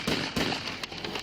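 An AR-15 rifle is fired from the back window of a police car: two sharp, loud reports in quick succession, followed by fainter cracking noise.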